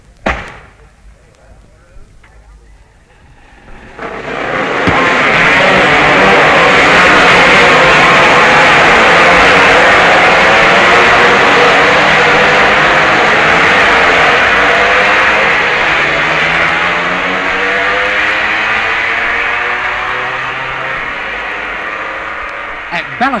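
50cc racing motorcycles at the 1966 Isle of Man TT, a two-stroke Suzuki twin leading four-stroke Honda twins: after a few quiet seconds a loud, high engine roar swells in and holds for a long stretch, with wavering pitch, easing slightly toward the end.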